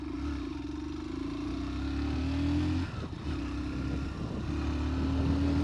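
A Hero Super Splendor Xtec 2.0, a 125cc commuter motorcycle, pulls steadily under acceleration, its engine drone rising and holding with a brief dip midway, close and continuous without speech.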